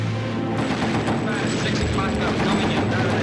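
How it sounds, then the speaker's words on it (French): A bomber's machine gun firing in a World War II documentary, dense rapid bursts that rattle loudly and continuously throughout, heavy and close. "Jim Doherty arma sa mitrailleuse et tira."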